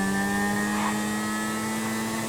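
A motorcycle engine revs steadily in the GTA 5 video game, a sustained buzzing drone that holds at a fairly loud level with no talk over it.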